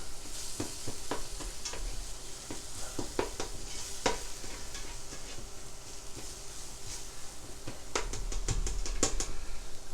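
Vegetables and fire-roasted tomatoes cooking in a pot for beef and vegetable soup, a steady low sizzle with frequent spoon clicks and scrapes against the pot, quiet and close.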